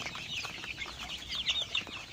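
Young Hisex Brown laying hens, five weeks old, chatter in a continuous cluster of clucks and high peeping calls, several birds overlapping closely with a few louder cries near the end.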